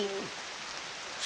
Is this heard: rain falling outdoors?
yes